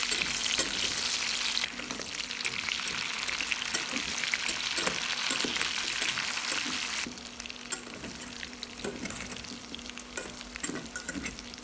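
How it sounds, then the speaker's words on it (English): Diced potatoes sizzle steadily in a hot pan while a utensil scrapes and taps in irregular strokes as they are stir-fried, the frying hiss dropping slightly partway through. "add the diced potatoes and stir-fry until cooked through"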